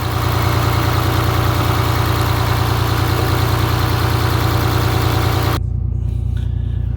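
A Cummins 6.7L diesel engine with many idle hours idles loudly and steadily. Its low, even rumble continues unchanged to the end, when the higher noise drops away.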